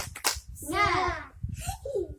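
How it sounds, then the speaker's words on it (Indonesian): Children do a rhythmic spirit clap in a classroom, a few quick claps at the start followed by young voices chanting together, close and moderately loud. "Tepuk semangat."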